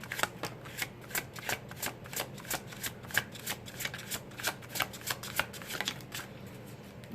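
Tarot cards being shuffled close by in a quiet room, a rapid run of crisp riffling flicks repeating steadily throughout.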